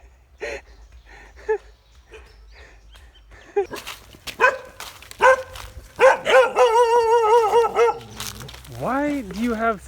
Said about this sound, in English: These are some serious trash dogs.